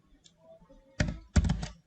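Two quick bursts of computer keyboard typing while coding a college website in HTML and CSS, clustered clacks close to the mic after a near-silent start, with no talk.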